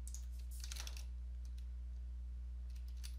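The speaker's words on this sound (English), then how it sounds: "Hit enter on your keyboard." Typing on a computer keyboard: a quick flurry of close keystrokes followed by a few sparse, isolated key taps over a steady low electrical hum.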